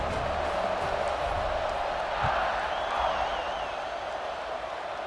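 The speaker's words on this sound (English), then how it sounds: "this crowd is buzzing after that last score" A football stadium crowd buzzes after a touchdown, a steady broad roar of many voices that holds level throughout, with a thin wavering whistle-like tone rising briefly above it midway.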